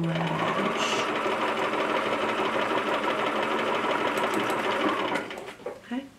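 A sewing machine stitches along a fabric edge while a dress is sewn and the stitches are locked. A loud, continuous rapid whir runs for about five seconds, then stops, leaving a few soft handling clicks.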